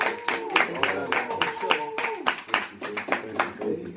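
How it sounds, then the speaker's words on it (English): Audience at an EP listening party clapping in a short burst of applause, mixed with loud voices talking and cheering close by. "Can we give him a round of applause?"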